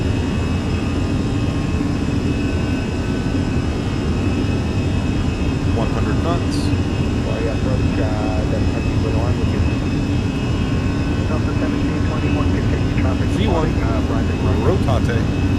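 Airliner jet engines spool up to takeoff power in Microsoft Flight Simulator, an Air Canada flight, giving a loud, steady broadband roar throughout, with a pilot's voice talking over it now and then.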